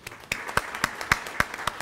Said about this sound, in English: With a huge round of applause, let's welcome Mr. Kaiser Dupaishi on stage.